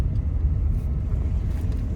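A car rolls slowly into the Manthokha waterfall resort near Skardu, its engine a steady low rumble heard from inside the vehicle, constant and fairly loud with no talk.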